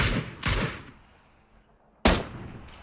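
Gunfire from the battle royale game PUBG on PC: two loud, sharp shots in quick succession, a short quiet gap, then a third close, punchy shot, with no voices.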